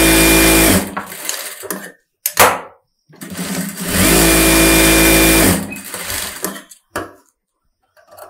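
A sewing machine stitches a close neck blouse in loud, steady runs of whirring, broken by short pauses and clicks between bursts.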